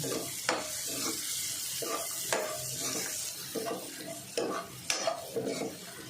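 Coriander leaves hiss and sizzle in hot oil while being tempered for kande pohe. A spoon stirs and scrapes the pan in an uneven rhythm, close by and moderately loud, with no voices.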